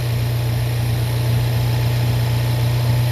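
An engine tuned with a TunePlus NX2 idles steadily at its first fire-up, a close, continuous low rumbling hum with slight vibration and no voices.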